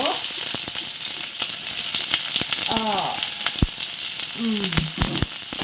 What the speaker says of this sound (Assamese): মই তেলতে সব ভাজি লওঁ আৰু পিয়াজ আদা নহৰু জিৰা জালুক যিমানখিনি মছলা আছে